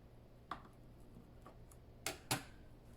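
A bone folder presses and rubs paper onto a handmade keepsake box, giving a few soft taps followed by two sharper scraping strokes close by, with no talking.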